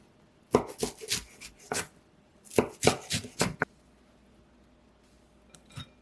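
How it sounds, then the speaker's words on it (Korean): A knife chops through cabbage on a cutting board in two quick bursts of close, crisp strokes separated by a short pause, then a couple of softer knocks, with no talking. "먹기 좋은 길이로 잘라줄게요."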